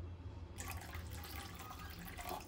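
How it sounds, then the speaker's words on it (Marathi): Water pours into cooked curry masala in a pan for an egg curry gravy: a faint, short splashing gush begins abruptly and continues at low level; no talk. "अजून थोडं पाणी घालते"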